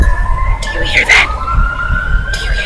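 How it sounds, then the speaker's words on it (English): An ice cream truck plays an eerie melody of long, sustained tones that drifts over rumbling background noise, with a brief voice-like sound in the middle. "Why can't I have a normal ice cream truck that plays regular noises?"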